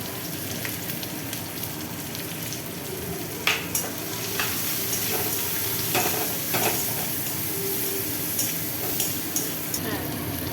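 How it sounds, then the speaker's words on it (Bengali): Onion and garlic frying in oil in a pan with salt and turmeric added, a steady close sizzle with a few sharp clicks of a spoon stirring against the pan. "পেঁয়াজ রসুনটা একটু ভাজা ভাজা হয়ে গেছে"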